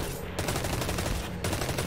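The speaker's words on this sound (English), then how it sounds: "This gun feels pretty modern and clickety-clackety." Rapid automatic gunfire from a gun in Destiny 2, a loud continuous rattle of shots with clicky mechanical clatter over a short burst.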